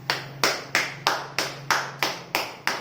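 People clap in unison in a Kangen Water office in Badshahpur: about eight sharp, loud, evenly spaced claps in a steady rhythm, with no talk.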